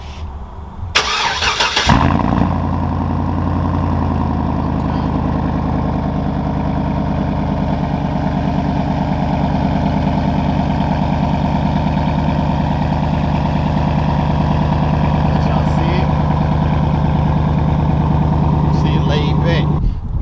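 A 2009 Chevrolet Tahoe with a 3-inch rear drop and a different exhaust setup cranks and fires up, then settles into a deep, steady idle that rumbles close and loud for the rest of the time.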